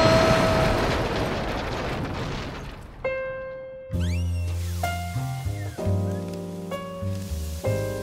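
A bomb sound effect in a comedy sketch: a loud, sustained roaring blast fills the first few seconds and fades, then tonal musical sting notes follow.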